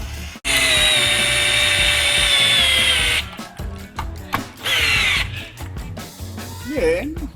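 A cheap electric drill worth 1,000 pesos, run in drill mode at its lowest setting, whines steadily up close for a few seconds, then stops and restarts in short bursts, with a voice speaking between them.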